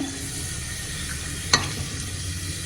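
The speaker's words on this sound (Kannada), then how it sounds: "ಇವಾಗ ಪಲಾವ್ ಮಸಾಲೆ ಎಲ್ಲ ಹಾಕೊಳ್ಳೋಣ. ಅದೆಲ್ಲ ನೀಟಾಗಿ ಸ್ವಲ್ಪ ಫ್ರೈ ಆದಮೇಲೆ" Pulao spices frying in hot oil for mushroom white pulao, a continuous close sizzle with one sharp scrape or clink midway, no talk.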